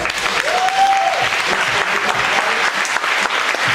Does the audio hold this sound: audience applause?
yes